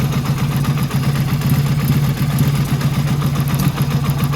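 An engine idles with one cylinder cut off and only the right cylinder firing, a steady low rumbling hum with a slightly uneven pulse, close and continuous throughout.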